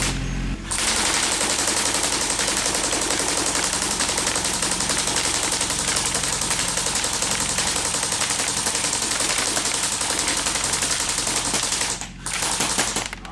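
Airsoft Cybergun AK47 firing 6mm BBs on full auto, a continuous loud rapid rattle sustained for about eleven seconds with a brief gap near the end, no talking.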